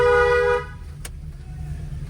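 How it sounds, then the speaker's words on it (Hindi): A car horn blares in one sustained, harmonic-rich blast of about half a second during a driving lesson, then gives way to low engine rumble and road noise. "और हॉर्न दीजिए।"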